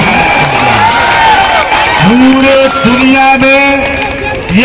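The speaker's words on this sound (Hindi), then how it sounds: "एक बार नेपाल के नाम पर जोरदार तालियों से" A crowd at a Nepali kushti wrestling bout cheers and applauds steadily, with a loud, drawn-out shouting voice, like an announcer's, riding over the crowd throughout.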